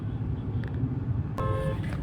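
Road traffic in Chennai with vehicles stuck in a jam, heard as a constant low engine rumble nearby and a brief horn-like tone partway through.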